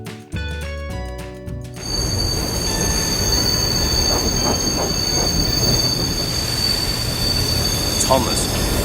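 Steam engines rolling across a viaduct in an animated Thomas CGI episode, a loud sustained rumble of wheels on rails with high metallic squeal tones, after a brief musical opening.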